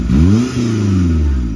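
A Gypsy 4x4 engine revs hard, pitch climbing sharply then falling back and holding a rough, steady drone, loud and close with no talk over it.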